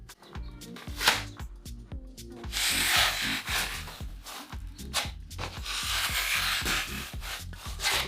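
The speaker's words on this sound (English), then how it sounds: "So always keep your fingers behind the knife for more strength, and we spread the compound." A drywall knife spreads joint compound over a seam during a bathroom renovation, a steady scraping rub that swells and fades in long strokes, close up, with no talk.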